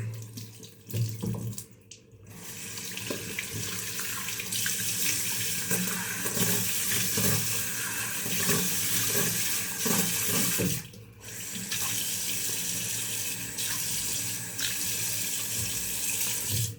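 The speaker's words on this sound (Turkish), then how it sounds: "Yüzümüzü soğuk suyla yıkıyoruz." Cold tap water runs steadily into a bathroom sink while a face is rinsed after a wet shave. The flow is close and continuous, broken by brief pauses and splashing changes.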